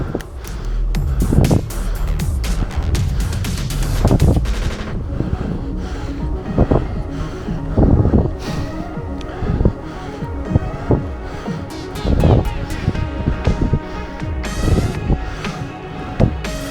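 Wind rushes past while riding a Ribble Gravel AL-e gravel e-bike in turbo mode, a loud, steady buffeting roar with gusty surges throughout.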